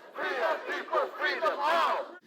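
Protesters gathered outside the main entrance of Collin County Jail shout together in a loud, sustained crowd roar, with voices swelling and dipping in several overlapping waves before cutting off.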